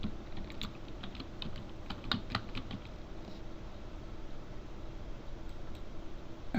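Light clicks from a computer keyboard tap out irregular keystrokes during C# coding, soft and close with a faint background hiss and no talking.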